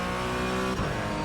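A race car engine in the iRacing sim drones at high revs, holding a steady harmonic whine before shifting pitch briefly, loud and close with no talk.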